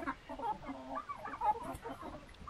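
A Cochin rooster clucks in a steady run of short calls close by, with soft clucking from other fowl in the background and no talking.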